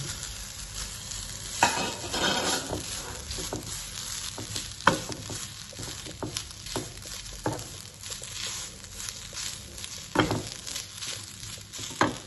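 Coconut stirred in a pan for dry fruit laddu: a soft sizzle under repeated spatula scrapes and taps, with a few louder knocks against the pan.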